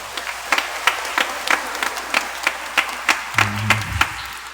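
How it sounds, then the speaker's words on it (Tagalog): Loud clapping from a congregation at a Christmas Eve Simbang Gabi mass in Quiapo Church, with distinct separate claps in a steady rhythm, a low hum coming in near the end. "Pumalakpak ng malakas."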